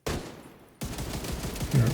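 Video game gunshots crackle in a dense rapid string, a burst, a short lull, then a steadier run of shots, fairly faint and continuous.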